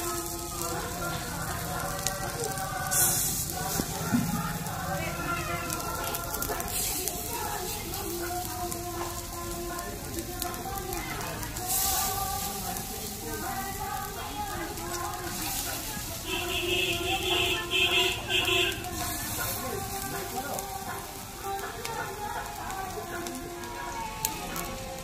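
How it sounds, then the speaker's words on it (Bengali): Bok flower fritters fry in hot white oil in a kadai, giving a steady, dense crackle and sizzle that continues through the whole stretch at moderate loudness, with a voice talking at times. "তেল গরম হয়ে গেছে, এবার আমি এক এক করে বড়াগুলো বসিয়ে দেবো"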